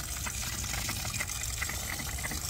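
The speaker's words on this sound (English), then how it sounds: "it's just water spitting out the air and stuff" Water sputters and gushes from a home water system line as trapped air is pushed out, a steady, noisy rush with faint low rumbling underneath, continuous and close.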